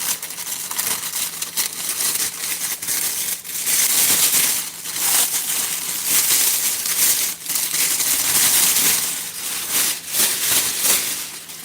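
Loud, continuous crinkling and rustling of stiff basket-making material, with rough scraping bursts that rise and fall throughout, no voices.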